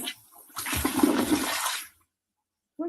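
Water gushes out strongly for over a second at close range, then stops abruptly, with a short burst of another sound at the very end.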